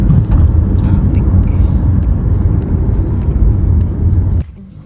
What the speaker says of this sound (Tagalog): It's busy at night guys.